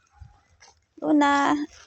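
A dog lets out a drawn-out, whiny high-pitched cry lasting under a second, with faint rustling before it and no other voices.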